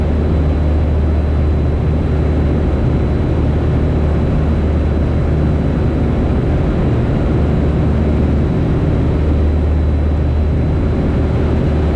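A small propeller airplane comes in to land, its engine drone steady and loud throughout, with a constant low hum and buzzing overtones and no pause in the sound.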